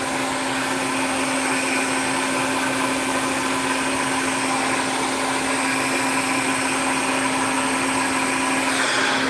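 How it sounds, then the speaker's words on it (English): A handheld hair blow dryer runs steadily and loudly throughout, its even rushing airflow and motor whine continuing unbroken with no voices. "So the blow dryer is on"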